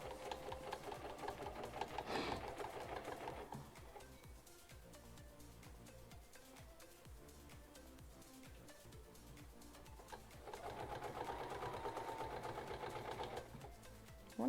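A sewing machine stitches a travel bag in two bursts of rapid, even whirring at the start and near the end, close by, with a quieter pause between while back stitches are set.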